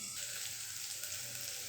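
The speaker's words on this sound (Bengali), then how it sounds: "ওটাতে ভালো হলে পেঁয়াজটা ভালো ভাজা হয়ে যায়।" Chopped onions frying in a pan give a steady, dense sizzle that holds evenly and alone for under two seconds.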